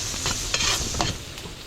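Garlic, onion and ginger being sautéed in a large catering pan with fish sauce, a brief close sizzle under a few quick scraping stirs.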